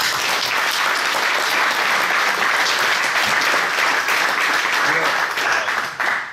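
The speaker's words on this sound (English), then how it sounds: "So give yourself a round of applause." Audience applause at a camp gathering fills the whole stretch, steady dense clapping that stays loud throughout and only thins slightly near the end.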